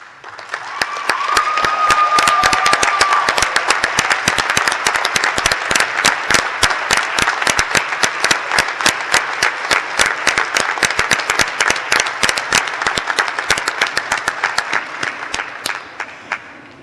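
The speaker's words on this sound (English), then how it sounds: "so that our graduates may show their appreciation by a round of applause" Graduate commencement audience giving a sustained round of applause, dense loud clapping from a large crowd in a hall that rises quickly and holds steady for many seconds before tapering.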